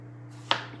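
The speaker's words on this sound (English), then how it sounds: "I guess I'm gonna chop 2 tomatoes, not 3, for this" A single knife chop through tomatoes on a cutting board, one sharp close knock over a low steady hum in an otherwise quiet kitchen.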